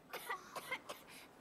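A character in Final Fantasy XVI coughs in a short, quiet burst of four or five dry, rough hacks, close by and without speech.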